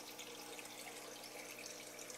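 Water from aquaponics grow beds on a bell siphon system draining into a sump in a garage, a steady, faint rushing trickle with no talking.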